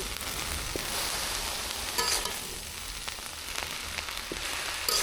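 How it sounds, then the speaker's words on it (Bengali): Beef fat and heart with potatoes frying in a pan after the lid comes off, giving a constant bright sizzle with occasional stirring scrapes, close up and without voices. "ঢাকনাটা তুলে এবার নেড়ে চেড়ে দেবো।"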